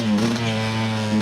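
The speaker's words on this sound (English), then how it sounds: "Two-stroke in the woods, baby." Two-stroke dirt bike engine revving on a wooded trail, a loud close buzzing drone held steady over a brief moment, no talking.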